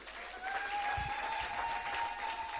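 Congregation applauding during a church service, steady broad clapping from a crowd filling the space, moderately loud and continuous, with a faint sustained tone beneath.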